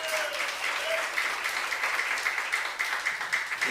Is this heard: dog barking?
no